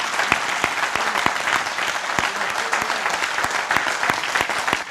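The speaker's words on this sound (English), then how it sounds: "Would you please stand if you can for a round of applause?" Sustained audience applause at a memorial service at a national cemetery in Hawaii honoring Korean War veterans, steady dense clapping with sharp individual claps standing out, loud and continuous throughout.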